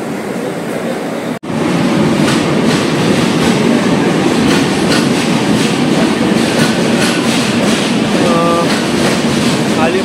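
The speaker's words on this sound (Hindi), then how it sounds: "चलिए ट्रेन जर्नी शुरू करते हैं बेंगलोर एक्सप्रेस पे" Tinsukia to Bengaluru Express passenger train running, a steady loud rumble with rhythmic clickety-clack of wheels over rail joints, heard from inside a coach, with a brief dropout early on.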